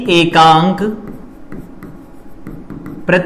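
A lecturer writes on a board during a physics lesson on electromagnetism, with a run of soft, scratchy strokes between spells of close, clear talk.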